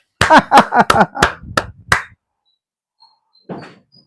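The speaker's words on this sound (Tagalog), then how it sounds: "Palakpak naman dyan!" A quick run of about seven sharp, hollow hand claps over two seconds cheers a political speech, then silence follows and a faint voice comes in near the end.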